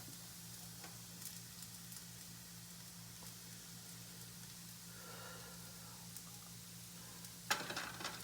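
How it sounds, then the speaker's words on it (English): Butter melts in a pan with a faint, steady sizzle and light crackle, a thin continuous hiss over a low hum, ending with a brief clatter. "We put some butter. Let's melt the butter."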